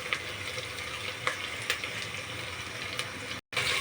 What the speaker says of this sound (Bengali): এখন ভালো করে টমেটোগুলো ভেজে নিব তেলের সাথে, পেঁয়াজের সাথে।